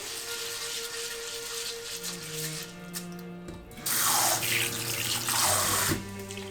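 Warm tap water runs steadily into a kitchen sink as white rice is rinsed for Mexican rice, a continuous close splashing rush with a low hum beneath, growing louder and brighter in the second half.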